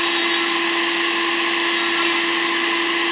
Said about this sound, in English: So I will deburr these edges all the way around, just like this.